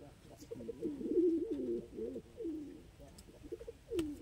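Fancy high-flying pigeons, male and female, coo in low, rolling phrases, several calls following one another steadily at close range, with a brief voice now and then.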